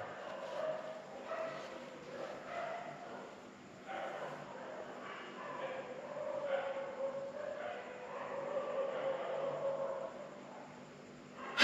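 Dogs barking at night outdoors in the dark, a faint, distant yapping spread through the clip with soft voices murmuring over it.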